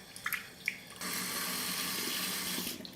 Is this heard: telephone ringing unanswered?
no